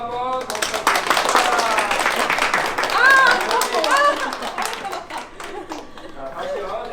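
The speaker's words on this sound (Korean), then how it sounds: "자, 박수 한번 더 부탁드립니다" Wedding guests clap together at a ceremony, a sustained patter of hands that lasts the whole stretch, with voices and chatter running over it.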